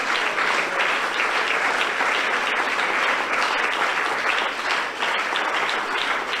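A church congregation applauds during a Spanish-language sermon on prayer, a dense, loud, continuous burst of many people clapping that fills the whole stretch without talk.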